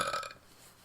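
A single loud, close burp from one person taking a turn in a burping drinking game, short and throaty, followed by quiet room tone.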